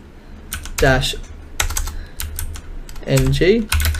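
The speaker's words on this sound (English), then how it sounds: "So we'll start by typing in the following command." A computer keyboard typed in quick clattering bursts while a command is entered during a WiFi penetration test, keys close and crisp, with short spoken phrases in between.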